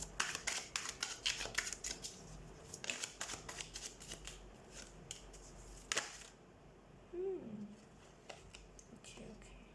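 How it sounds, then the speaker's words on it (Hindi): Tarot cards shuffled by hand in a run of quick crisp riffling bursts, close and fairly quiet, breaking off near the end where a short voiced sound cuts in. "so let's shuffle the cards"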